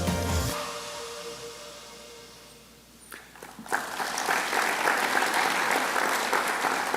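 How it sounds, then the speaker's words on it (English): Applause at a university faculty convocation, a tonal music fade giving way to swelling clapping from the audience that grows loud and steady in a large hall. "Today we applaud Dr. Crilly's extraordinary accomplishments."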